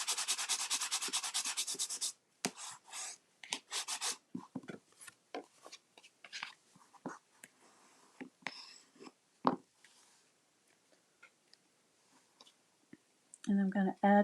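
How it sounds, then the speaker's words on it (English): A burnishing tool rubs across paper on a watercolor peony painting in short, quiet scraping strokes with pauses between them, heard close up. "Gonna give that a good burnish."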